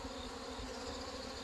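Honeybees buzz steadily at a hive being combined after hornet damage, a dense, continuous hum that holds at the same level throughout with no voices.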